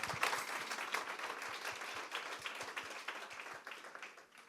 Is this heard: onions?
no